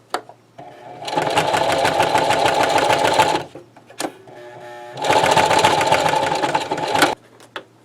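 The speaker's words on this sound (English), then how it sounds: "See, now that the sewing is done, now I have eyelets." A sewing machine stitches webbing for a DIY cooler and kayak cargo barge, running in two loud, steady bursts of rapid mechanical whirring of about two seconds each, separated by short pauses with clicks.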